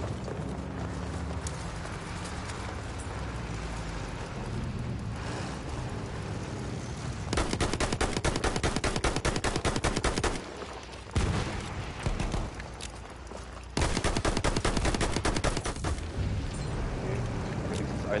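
An automatic weapon fires in Battlefield 1, with long sustained bursts of rapid shots over a constant rumble of battle noise, loud and near, separated by short pauses.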